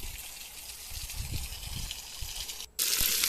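Irrigation water gushing steadily from a pipe into a banana field beside sugarcane, a continuous broadband rush close to the microphone that briefly drops out and then returns louder.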